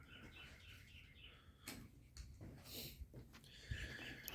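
A bird chirps repeatedly around a house construction site, short tweets coming and going at moderate distance over quiet outdoor background noise.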